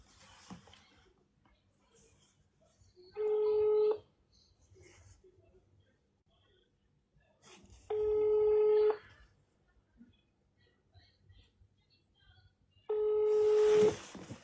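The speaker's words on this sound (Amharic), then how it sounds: "ዋትስአፕ አይደለም ቀጥታ ነው እየደወልኩ ያለሁት።" Outgoing phone call from a roadside: a ringback tone sounds three times, each about a second long and roughly five seconds apart, with quiet background noise between rings.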